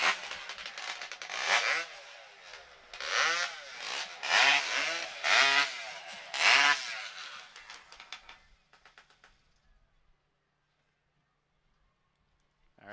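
Two-stroke engines of competition chainsaws at a STIHL Timbersports professional qualifier rev loudly in repeated bursts for about eight seconds, then cut off into near silence.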